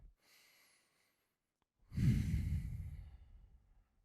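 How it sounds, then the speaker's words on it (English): A soft breath in through the nose, a pause, then one long, slow, controlled exhale close to the ear, gradually fading out, during a stretching class. "Inhaling through your nose, slow controlled exhale the whole way through."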